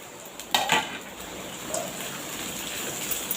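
Shredded cabbage lands in a pan with frying onion and capsicum, bringing a clatter of utensil against the pan and then a steady, soft sizzle with no talking.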